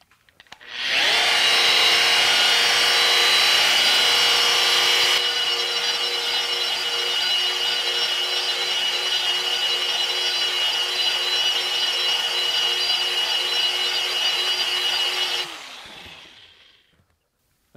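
Metabo SE 17-200 RT burnishing machine running a 180-grit abrasive across steel, a loud, sustained abrasive whir that starts abruptly, holds steady for about fifteen seconds with a slight drop partway, then winds down.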